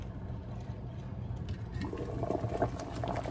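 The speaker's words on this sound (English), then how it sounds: "everything is boiling" Water for a shrimp, lobster and crab seafood boil bubbles and rumbles at a steady boil in a pot, close by, growing a little louder and busier toward the end.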